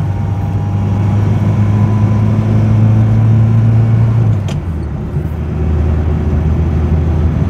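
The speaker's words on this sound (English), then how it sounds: "They're quite a revvy little engine." Engine of a Vauxhall HA Viva car revving as it drives along a road, a loud steady droning hum with road rumble inside the cabin that dips briefly as the revs change, then resumes.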